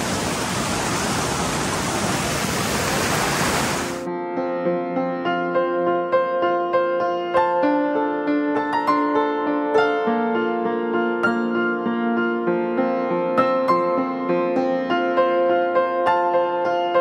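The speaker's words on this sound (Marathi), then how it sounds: "आम्ही आलो इकडे पाण्यामध्ये वॉटरफॉलमध्ये" A waterfall on a rainy day, with heavy rain falling nearby, roars as a loud, steady wash of rushing water for about four seconds before it cuts abruptly to music.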